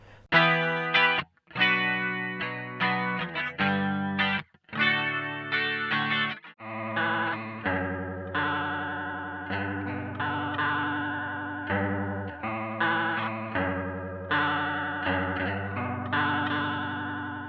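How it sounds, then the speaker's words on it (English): An electric guitar played through a Boss CE-2W Waza Craft chorus pedal, with shimmering, warbling chords and single notes ringing out, first in short clipped bursts, then in longer sustained phrases, loud and close, with no voices. "I'm going to take you through the Boss CE2W Wisercraft chorus pedal"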